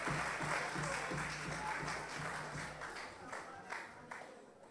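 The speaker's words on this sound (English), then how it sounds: "Please give him a rousing applause as you have all others here this evening." An audience at a People's Assembly evening in Barbados applauds a speaker being introduced: dense, sustained clapping that fills the room, easing slightly in strength toward the end, with faint voices mixed in.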